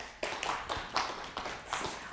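Quiet, unhurried applause from a lecture audience, heard as a few distinct claps in a slow, loose rhythm, fairly soft and with no voices over it.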